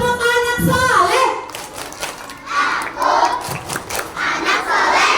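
A group of children chant loudly together and clap along in rhythm during a religious storytelling session, with close, energetic shouted voices and bursts of hand claps.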